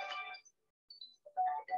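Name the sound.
mobile phone ringtone during lecture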